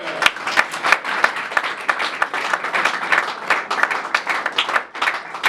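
A church congregation in Lille Roubaix clapping together in loud, dense, sustained applause that continues without a break.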